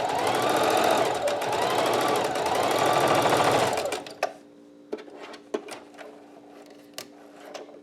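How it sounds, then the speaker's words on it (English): A sewing machine stitches a final seam along the inside fold of a fabric center-fold mask, running as a loud, fast, steady rhythmic whir for about four seconds. It stops abruptly, followed by a few soft clicks and handling sounds. "Then run a final stitch along the inside of the fold."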